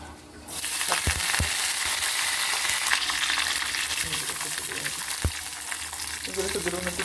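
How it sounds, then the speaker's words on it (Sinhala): Ginger and garlic fry in olive oil, a steady bright sizzle filling the whole stretch, with a few sharp clinks of a utensil against the pan and brief stirring scrapes near the end. "ඉඟුරු සුදුරුණු ටික හොඳට බැදෙන්න අරින්න"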